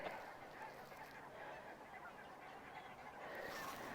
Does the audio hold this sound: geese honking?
yes